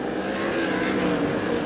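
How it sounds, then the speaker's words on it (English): Sprint cars race at Arizona Speedway in an ASCS desert main event. A loud, steady roar of engines fills the whole stretch without a break. "Dennis Guile pulls out to about 5 car length advantage through turns 3 and 4"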